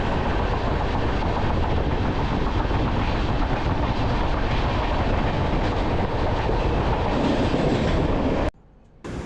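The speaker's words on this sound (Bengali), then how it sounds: "আপনারা সামনের দিকে যে পণ্যবাহী ট্রেনটি দেখতে পাচ্ছেন" A freight train carrying cars rolls past close by, a loud continuous rumble and rattle of wagons with rhythmic wheel clatter, cutting off abruptly near the end.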